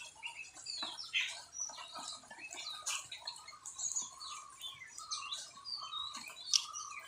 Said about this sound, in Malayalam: ഇവിടെ എവിടേക്കോ ഇരുന്ന് പക്ഷികൾ ഭയങ്കരമായിട്ട് സംസാരിക്കും കേട്ടോ.